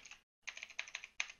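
Fast typing on a computer keyboard while coding in Java: a quick run of light, clicky keystrokes after a brief pause, close and fairly quiet, with no talk.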